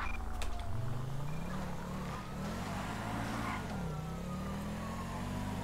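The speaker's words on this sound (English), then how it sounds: "We have vehicles racing in Sandy Shores." Racing cars roar through Sandy Shores in GTA 5, a steady loud engine drone with rising and falling revs as vehicles speed past, continuous and close for the whole stretch.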